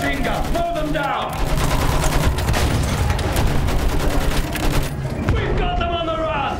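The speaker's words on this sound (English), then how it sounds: "Use that machine gun. Slow them down." Battlefield 1 machine gun fire, a dense, loud continuous rattle of automatic shots running almost the whole clip, layered with distant battlefield booms and a voice speaking.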